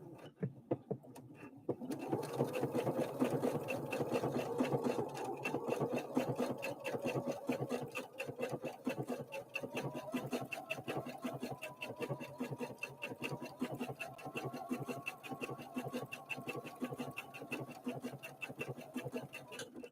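A Husqvarna Viking Opal 650 sewing machine starts after a brief pause and then stitches steadily. Its needle chatters in a rapid, even whir that runs on close and moderately quiet.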